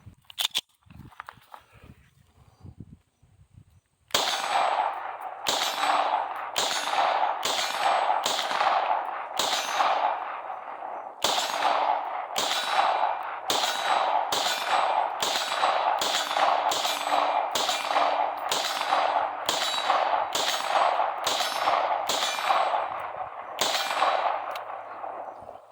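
Close, loud shots from a PSA Dagger full-size pistol, about twenty sharp reports fired in a steady, fairly quick string after a quiet opening.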